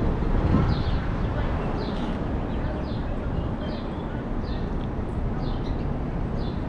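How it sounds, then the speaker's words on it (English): Small birds chirp repeatedly in a bit of urban habitat near 17th and Chestnut in Center City, Philadelphia, their short high calls coming every second or so over a steady wash of light city traffic rumble. "you're hearing something that you don't normally hear in Center City, birds"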